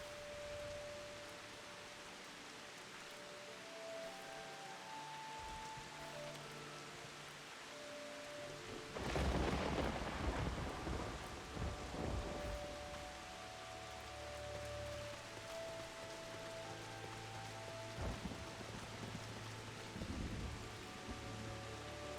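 Steady rain hiss from the game Final Fantasy XIV runs throughout, with a louder rumbling burst like thunder around the middle and musical tones layered over it.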